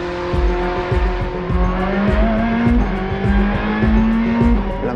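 Ferrari SP3 race car engine at full power, a loud, continuous high-revving drone with rising pitch and rapid repeated gear-shift pulses, steady and close throughout with no talk.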